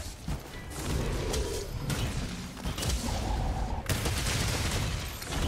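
Gunfire and explosions ring out in the monster-hunting video game Monster Hunter World, with rapid bursts of shots and crashing blasts in quick succession, all fairly quiet in the mix.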